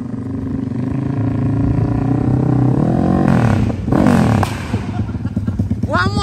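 A 350 cc Yamaha MX King motorcycle revs loudly up close, a rough buzzing engine note that climbs in pitch, drops, then surges again with sharp throttle blips and popping, with voices partly mixed in.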